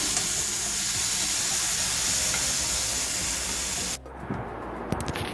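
Ripe plantain slices sizzle and hiss steadily in a hot pan, a dense close frying sound that runs for about four seconds, then cuts to quieter clinks and faint noise.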